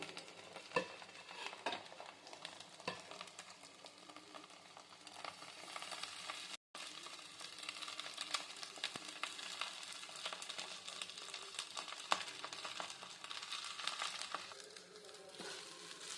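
Cooked rice being stirred into masala egg in a frying pan, a steady scraping and soft sizzling that runs throughout, with a brief break partway and no talk over it.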